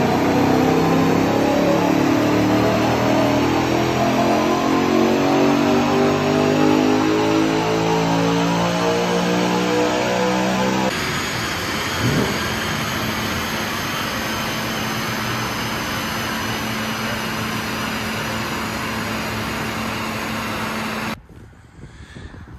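A BMW M3 with the S65 V8 revs on a dyno, loud and close, its pitch climbing steadily. It then holds a high sustained drone before cutting off abruptly near the end.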